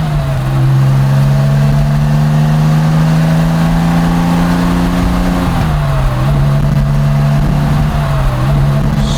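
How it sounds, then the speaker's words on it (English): A Porsche 911 SC Targa engine pulls hard from second into third gear, a loud, close, steady drone that climbs, drops briefly at the shift, then builds again, with no voices. "See a little second to third gear action."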